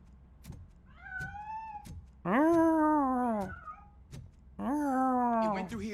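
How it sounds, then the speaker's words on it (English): A cat in the RoboCop: Rogue City video game gives two loud, drawn-out meows close by, preceded by a fainter, shorter one, with soft game ambience and clicks between. "That cat must be hiding inside."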